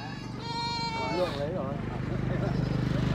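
Mountain goats at a market bleat in a wavering, quivering cry midway through, with people chatting in Vietnamese around them and general background noise throughout.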